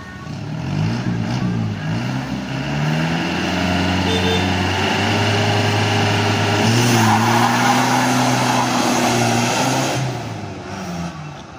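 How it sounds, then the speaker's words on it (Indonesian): An engine revs hard on a test drive with a big tire fitted, a loud close roar with rising and falling pitch, rough and sustained over about ten seconds. "ini mau kita test drive untuk mesinnya, apakah kuat ngangkat untuk ban besar"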